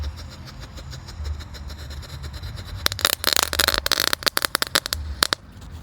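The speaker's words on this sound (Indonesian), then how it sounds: "Ini disco yang Prate guys. Kita nyalakan. Menyala di dalam paralon bosku." A disco firecracker burns inside a PVC pipe, first a low rumbling hiss, then a fast burst of sharp crackling pops for a couple of seconds that thins into scattered bangs, loud and close with no voices.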